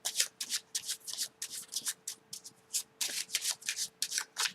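Playing cards riffle-shuffled by hand in quick repeated bursts, a crisp fluttering rattle that comes close and steady with short pauses between shuffles, with no voices.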